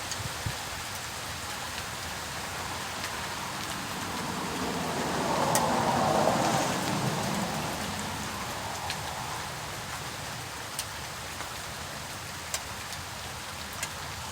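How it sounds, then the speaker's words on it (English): Light rain falls steadily during a storm with a soft, even hiss and scattered drop taps; it swells briefly midway, then settles back. "I mean, it's a rain, but it's not heavy like I was expecting it to be."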